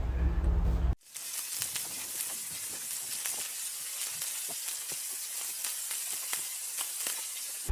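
Tomato masala with a Knorr cube frying in a pan, a dense continuous sizzle with scattered crackling pops that starts abruptly after a brief moment and carries on steadily to the end.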